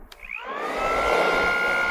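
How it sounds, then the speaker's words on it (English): An upgraded small hair dryer blowing air at a Lego scene switches on and ramps up into a loud, steady whirring whine with rushing airflow, continuous and close. "I managed to upgrade that little hairdryer, and now we have super wind power."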